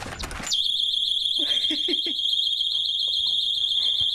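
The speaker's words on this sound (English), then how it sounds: "beginning with this small doorstop alarm" A small doorstop alarm set off as a front door is forced, giving a loud, steady high-pitched electronic tone that runs continuously after a burst of banging, with faint knocks beneath it.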